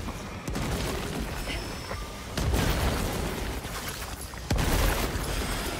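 Grenade explosions in Helldivers 2: a continuous loud rumble of blasts and gunfire, with two heavy booms striking partway through and near the end, close and dense, with no voices.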